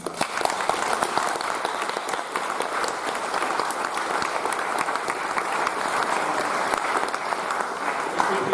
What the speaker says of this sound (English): I really love everyone to give Simone a round of applause